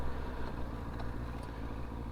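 A restored Yamaha R1 motorcycle with freshly cleaned carburetors runs on a cold winter ride, a steady, moderately loud engine drone with no speech.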